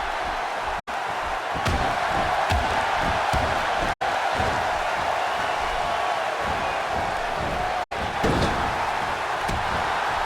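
Arena crowd in the WWE 2K16 wrestling video game, a continuous dense roar with scattered thuds and claps, loud and sustained, broken by three brief dropouts.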